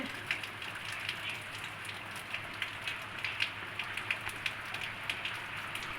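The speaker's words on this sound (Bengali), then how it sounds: "বিশাল বৃষ্টি হচ্ছে অন্ধকার হয়ে গিয়ে" Heavy rain falls as an even, hissing patter with regular crisp drips and taps on a nearby surface. The sound is fairly faint overall and no one speaks.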